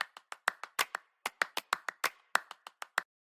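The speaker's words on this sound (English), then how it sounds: "And then the same clap loop from before." Clap loop in a K-pop beat: a run of sharp, close hand claps in a syncopated repeating pattern, clean and dry with nothing underneath.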